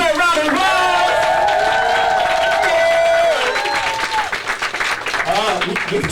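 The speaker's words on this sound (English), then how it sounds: "Give Kaya French a well-deserved round of applause." An audience at a numerology workshop applauds, a steady round of clapping with some crowd noise while a voice carries over it, the claps thinning out toward the end.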